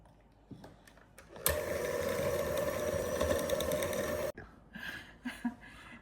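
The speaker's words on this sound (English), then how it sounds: "So let's give it a whisk." Frosting of heavy cream, vanilla and salt being whisked with an electric mixer, a steady close motorized whir lasting about three seconds with quieter clinks before and after.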